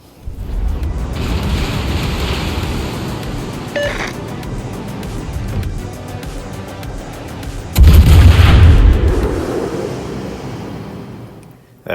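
Naval guns of the German battlecruiser Von der Tann booming in World of Warships, a low roaring salvo that swells loudly midway and rolls off over ocean ambience.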